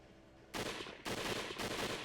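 A gunfire volley in the visual-novel game Hakuoki Chronicles, three loud, close bursts of massed shots in quick succession, each a broad noisy blast lasting about half a second, with no voices.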